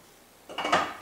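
A metal hopper is set onto a Squeezo tomato strainer, giving a short, faint clink and scrape of metal parts fitting together, heard alone.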